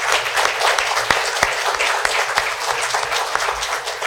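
An audience applauds steadily after a 2015 Lackawanna County commissioners debate held by the League of Women Voters. The dense, sustained clapping fills the hall with occasional sharper individual claps and little talk.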